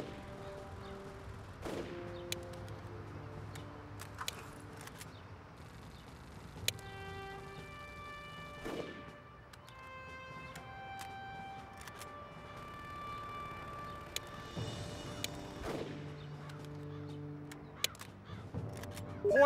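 Gunfire from the Xbox squad tactics game Full Spectrum Warrior, sharp shots popping intermittently across the scene over a layer of game music and ambience, some bursts closer and louder than others.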